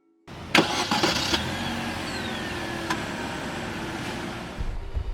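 Wuling New Confero S car engine starting up with a short burst of cranking, then settling into a steady close idle hum.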